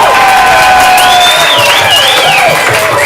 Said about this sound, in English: I want you to erupt into massive applause.